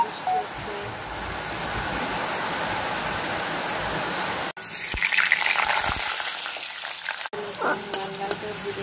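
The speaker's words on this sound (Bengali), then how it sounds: "বাইরে হচ্ছে বৃষ্টি, দেখতেই পাচ্ছ কত জোরে বৃষ্টি হচ্ছে।" Heavy rain pours steadily outdoors, a dense continuous hiss heard from indoors alongside potatoes frying in a pan, with a couple of brief dropouts and a few faint clinks near the end.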